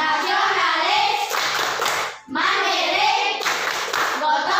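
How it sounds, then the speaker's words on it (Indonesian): Schoolchildren at a Christian elementary school perform the PPK clap chant together, bursts of rhythmic hand clapping alternating with loud group chanting, with one brief pause midway. "Kita akan melakukan tepuk PPK"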